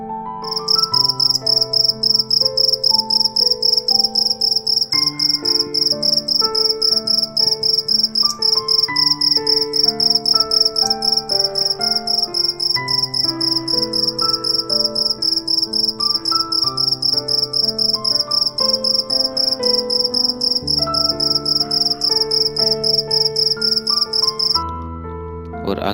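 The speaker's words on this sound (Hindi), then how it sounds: "और यही आवाज़ आपको ऐसा लगेगा कि ये एक झींगुर की आवाज़ जैसे" A continuous high, shrill cricket-like chirping drones steadily through a slow synth meditation track, sustained almost unbroken until near the end and fairly prominent over the soft tones.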